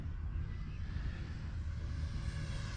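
FMS P-51D Mustang Dago Red RC sport plane, 1100mm with a 4S electric setup, droning steadily in flight with a constant broadband whine, fairly loud and continuous with no talking.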